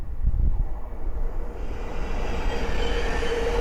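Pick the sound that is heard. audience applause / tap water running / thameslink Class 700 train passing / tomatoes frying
thameslink Class 700 train passing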